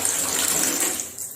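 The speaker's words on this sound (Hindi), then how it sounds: "एक्चुअली अभी बाथरूम का हमने टैप ऑन करके रखा है" A bathroom tap left running at home, a steady close hiss and splash of water pouring out, loud and continuous, easing off slightly near the end.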